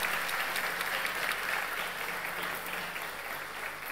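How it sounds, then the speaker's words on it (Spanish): Steady applause from a studio audience at a Spanish-language TV show, dense clapping sustained at even loudness throughout with no speech over it. "Aplaudan la que se lo merece."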